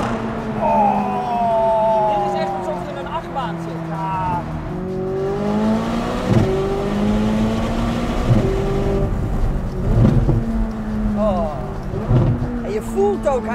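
A McLaren 600LT Spider's engine revs up and down repeatedly, the exhaust note sweeping in pitch with sharp crackles and pops punctuating the rises, loud and close throughout.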